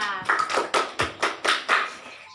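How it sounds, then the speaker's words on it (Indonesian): A classroom clapping for group 2, about seven distinct, rhythmic claps in quick succession, sharp and fairly close, then fading out. "Tepuk tangan untuk kelompok 2"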